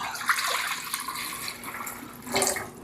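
Water streams steadily from a tap into a cooking pot for black-eyed peas and ham, a continuous close splashing rush that swells louder near the end.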